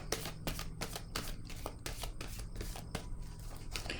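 Tarot cards are shuffled by hand in quick, repeated riffling bursts, a close and fairly soft series of crisp papery flutters at an even rhythm, with no talking.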